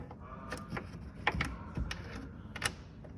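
A flex-head ratchet tightens a mirror bolt in a series of short, quiet clicks and ticks at uneven intervals, heard up close with no talking.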